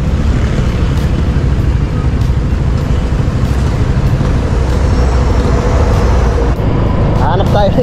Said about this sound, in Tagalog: Grabing traffic na naman dito.